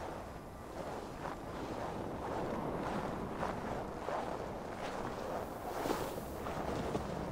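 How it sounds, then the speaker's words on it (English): Wind blows steadily in Assassin's Creed Valhalla, a continuous loud rushing noise with gusty swells and faint thumps underneath, with no voices. "Windy."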